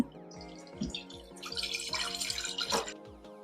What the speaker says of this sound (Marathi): सगळ्यात आधी आपण इथं ताक टाकून घ्यायचंय